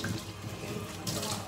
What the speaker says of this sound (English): I'm gonna wash it through first, clean it.